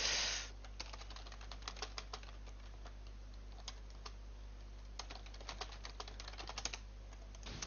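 Someone types on a computer keyboard during a Dota game broadcast, producing quiet, quick clusters of key clicks in short bursts with pauses between them over a low background hum.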